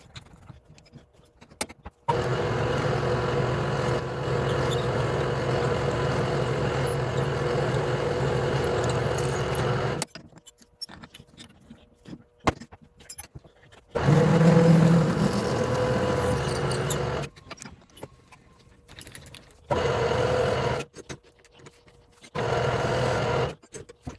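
A metal lathe machining steel mounting blocks for a homemade power hacksaw, running in several long steady whirring bursts separated by quiet pauses and handling clatter.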